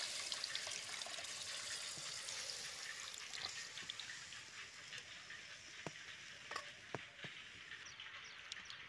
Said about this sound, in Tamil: கரைச்சி வச்ச புளி தண்ணியை இதில் சேர்த்துக்கலாம்.